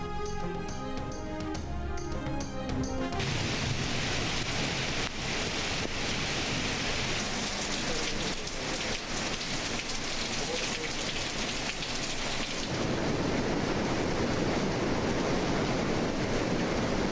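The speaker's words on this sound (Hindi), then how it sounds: "लाहौर और गिरदोनवा में रात गए मूसलाधार बारिश" Torrential night rain over Lahore hisses in a heavy, continuous downpour, with a music sting at the start and a shift in texture partway through, dense and loud throughout.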